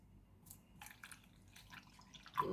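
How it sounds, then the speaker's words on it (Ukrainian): Water poured from a container onto 25 grams of powdered gelatin, about 100 ml in all, giving a quiet trickle with small splashes and drips and a louder splash near the end, close and alone without talk. "Пачку желатину 25 грам заливатиму 100 мл води"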